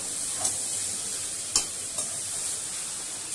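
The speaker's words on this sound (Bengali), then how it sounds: "খুব ভালো করে নাড়িয়ে নিলাম।" Chow mein noodles with vegetables and chicken are stirred in a pan over a steady background hiss, with three quick scraping strokes spaced apart.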